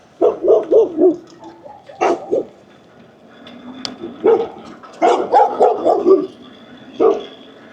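Several neighborhood dogs bark in quick bursts of three or four yaps, pausing between volleys, moderately close and loud with no talk over them.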